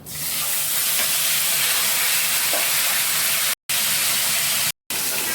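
Pieces of rohu fish fry in hot oil in a pan, giving a loud, steady, close sizzle that runs almost unbroken, with two brief gaps of silence near the end.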